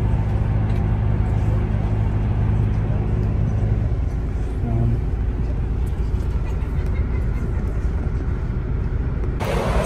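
Interior of a double-decker bus travelling from the Netherlands to Germany, a steady low engine and road drone filling the cabin, with a change in tone partway through and a brief sharper noise at the very end.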